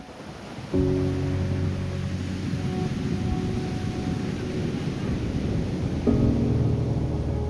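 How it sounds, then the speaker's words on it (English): Rain and gusting wind buffet a microphone on a black sand beach in Iceland, a loud rumbling roar with sudden thumps of wind blasting the mic. "the rain and my microphone totally messed up my audio"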